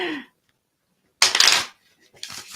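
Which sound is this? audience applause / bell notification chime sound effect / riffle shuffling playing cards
riffle shuffling playing cards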